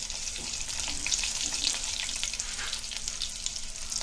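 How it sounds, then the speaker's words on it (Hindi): Cumin and mustard seeds crackle in hot oil in a steady, dense sputter and fizz with rapid tiny pops, close and loud, no voices. "अभी जीरा राई तड़कने लगा ना कि उसमें ये मिर्ची डालेंगे"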